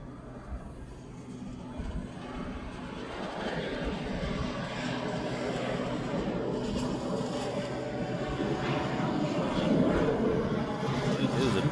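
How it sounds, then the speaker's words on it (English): A JAL Boeing 787 Dreamliner arriving at Honolulu from Tokyo drones in a steady engine rumble that slowly swells louder as it approaches. "Dreamliner coming in from Tokyo."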